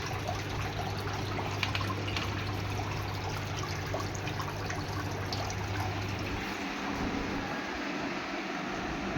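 Waste water draining out the back of a Whirlpool Xpert Care front load washing machine, a steady close rushing and trickling flow with a low hum that stops about two-thirds through, leaving a softer gurgle.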